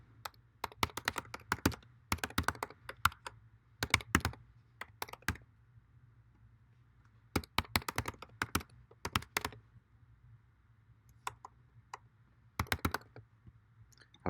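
Keys clack on a computer keyboard in quick bursts of typing separated by pauses, close and fairly quiet, with no talking over it.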